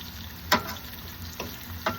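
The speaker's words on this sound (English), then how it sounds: "We don't want the garlic to burn. So keep moving that around." Garlic fries in a pan while being stirred around, a steady soft sizzle with a few sharp utensil clicks and scrapes against the pan, close by and without talk.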